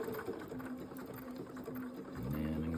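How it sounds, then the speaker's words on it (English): A sewing machine runs slowly stitching paraglider lines, a steady mechanical whir with even needle ticks, close up, picking up a lower hum toward the end. "I'll slow down my stitching when that time comes. So I'm going to slow her down now."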